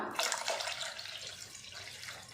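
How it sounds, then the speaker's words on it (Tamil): Water added to a rasam mixture of soaked tamarind water, a steady splashing pour that runs the length of the short stretch, fairly soft and close. "கூடவே ரசத்துக்கு தேவையான அளவுக்கு தண்ணி சேர்த்துக்கலாம்."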